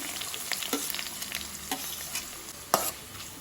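Onion and curry leaves frying in a pan for a raw banana fry, with a steady close hiss, a few stirring clicks and one sharper clack near the end, no voices.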